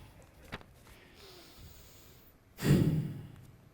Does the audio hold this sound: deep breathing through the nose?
yes